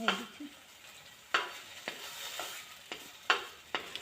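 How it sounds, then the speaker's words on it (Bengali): Coriander leaf paste frying with salt and oil in a pan, a soft sizzle underneath sharp, repeated scrapes and taps of a spoon stirring at irregular intervals. "লবণ তেল দিয়ে ভেজে নিলাম"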